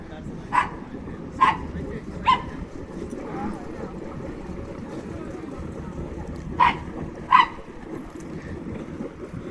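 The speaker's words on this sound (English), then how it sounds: "Oh, they got a dog on board." A dog on board a yacht gives five short, sharp barks, three close together early and two later, over a steady low rumble of engine and water.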